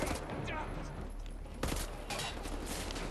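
Rapid dual-wielded gunfire from the video game Wolfenstein: The New Order, a dense continuous barrage with a sharp burst near the middle, loud and close, mixed with game sound and a voice.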